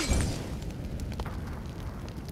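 A grenade explodes in PUBG gameplay, a sudden heavy boom at the start that decays into a rumbling, crackling tail, loud and close with no voices.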